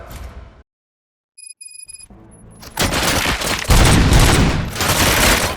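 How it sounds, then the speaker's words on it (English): Gunfire erupts in the video game RoboCop: Rogue City, a loud sustained fusillade of rapid shots and booms that follows a brief silence and a few chiming electronic tones. "Gunshots? What's going on?"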